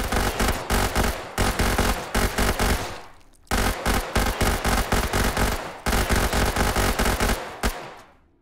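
A big-magazine automatic weapon in the virtual-reality game Hot Dogs, Horseshoes & Hand Grenades fires three loud, rapid bursts, each a rattling string of close shots with a short pause and echo between.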